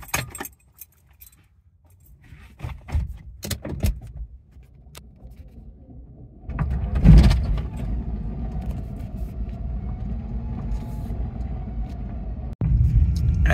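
A homebrew electric Suzuki Swift out on the road, a steady low rumble of rolling wheels and road noise that builds and holds. Keys jangle loudly near the start.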